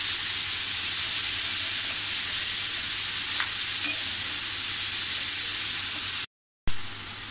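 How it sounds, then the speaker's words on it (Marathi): Grated carrots fry in ghee for gajar halwa, giving a steady, broadband sizzle close by with faint scraping of stirring, uninterrupted apart from a brief cut near the end. "4-5 मिनटं तरी आपल्याला परतायचं आहे. आणि सतत असं ढवळत राहायचं आपल्याला."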